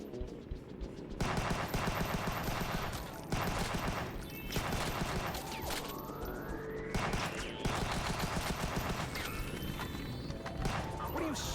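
Video game gunfire comes in repeated clustered bursts of shots separated by brief gaps, with a synthetic rising tone sweeping up midway and a steady game soundtrack underneath.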